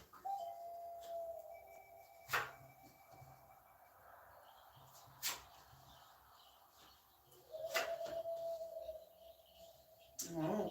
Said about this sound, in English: I'm going to bang my gong here.